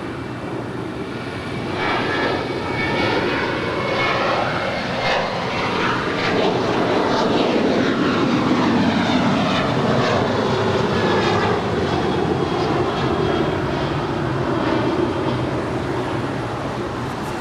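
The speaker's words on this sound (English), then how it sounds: "Our first departure is United Airlines Flight 1264 heading to Denver," A United Airlines Boeing 737-800 jet departs Los Angeles International Airport, its engines a continuous broad roar that swells and holds loud across the whole stretch, with no talk over it.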